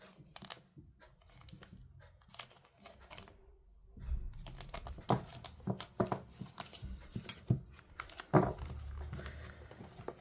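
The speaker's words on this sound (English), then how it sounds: "let's take the major cards out." Tarot cards being handled and sorted by hand: a run of soft papery riffles, slides and taps, quiet at first and then busier and louder, with no talking.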